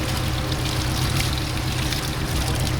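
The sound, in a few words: water poured to wet exhaust heat wrap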